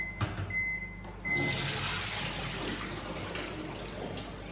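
Cooked noodles rinsed under running tap water, a steady broadband rush of flowing water that starts after a brief pause and continues at a constant level to the end.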